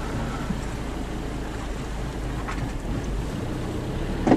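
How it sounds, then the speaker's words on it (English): A motor with a known oil pressure problem idles steadily in cold outdoor air while smoke burns off it, a low, fairly quiet rumble throughout with a slightly louder knock near the end. "Look at all that smoke burning off that motor. I like it because it's kind of quiet."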